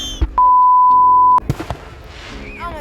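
Fourth of July fireworks exploding nearby: a loud bang, a long steady whistling tone, then more sharp cracks and bursts, with only faint voices.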